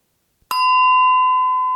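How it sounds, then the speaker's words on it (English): A single bell rung on a theatre stage during a performance of The Importance of Being Earnest, a sharp strike followed by a clear sustained ringing tone that lingers without fading, with no voices over it. "You may also ring the bell."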